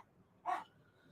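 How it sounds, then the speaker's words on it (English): A dog gives a single short bark, fairly faint against a quiet room background, with no one speaking over it. "my dog started barking."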